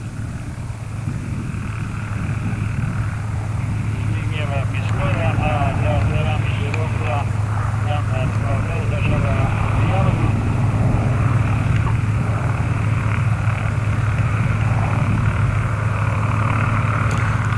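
A propeller airplane engine drones steadily at an aeroclub anniversary airfield event in Mielec, a loud continuous low hum with a faint buzzing overtone, while people talk beneath it.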